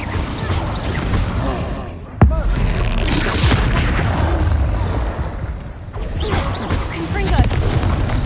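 Incendio fire spell cast in Hogwarts Legacy, a sudden sharp boom that rolls into a rumbling burst, set among busy, continuous game sounds of blasts and clatter.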